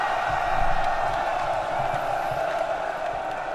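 An army cheers in the video game Rome: Total War: a sustained roar of many distant voices with no distinct words, steady and dense for the full few seconds.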